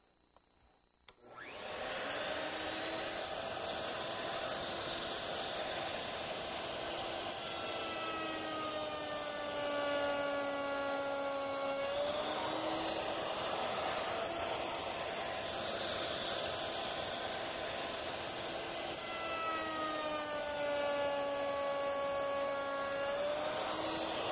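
A router table with a cope bit cutting the ends of wood pieces gives a loud, steady high whine that starts abruptly and runs throughout, its pitch dipping briefly as the bit bites into the wood.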